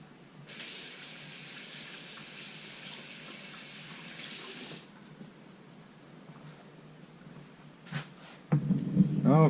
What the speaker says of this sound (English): rinse the last little bit of it off in the sink